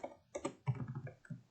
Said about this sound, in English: So we start off by typing class and then the class name.